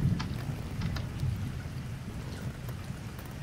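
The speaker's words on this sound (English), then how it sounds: "A real cool breeze is blowing through and it's raining." Steady, soft rain patter with a low rumbling wash underneath, continuous and fairly quiet throughout, no voices.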